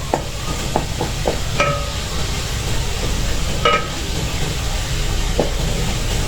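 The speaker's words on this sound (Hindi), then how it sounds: "मसाले को हम 5 मिनट तक अच्छे से पका लेंगे इस तरह से" Masala for an aloo methi sabzi fries in a pan with a steady sizzle, broken by irregular scraping and clinking strokes as it is stirred.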